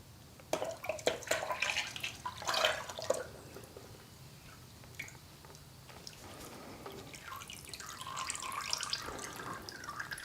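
Used transmission fluid from a 2006 Toyota Tundra V6 4.0L being poured into a container, a faint splashing and trickling liquid stream in uneven bursts, then a softer continuous pour.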